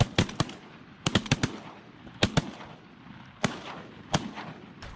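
Duck hunters' shotguns go off in quick clustered volleys at a group of landing ducks, several sharp loud blasts in bursts of two and three, each with a short rolling echo outdoors.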